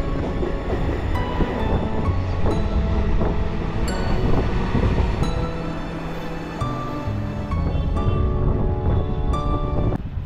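Rumbling metro train ride toward Kalighat in Kolkata, a steady loud roar of wheels and rails with wind noise, constant throughout with brief rattles and clanks and no voices.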